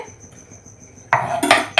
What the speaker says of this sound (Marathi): आता हे जे कापलेले कारले आहेत ते आपण या मोठ्या भांड्यामध्ये काढून घेऊ